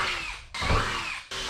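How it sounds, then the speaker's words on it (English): A power drill bores pilot holes for a spare tire carrier on a Jeep WJ Grand Cherokee, its steady high whine running loud and close, briefly dropping out before resuming. "We're gonna go ahead and drill our pilot holes right on our mark."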